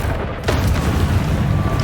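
The Expelliarmus spell goes off in the Hogwarts Legacy video game: a sharp magical burst lands at once and then gives way to a loud, sustained low rumbling boom.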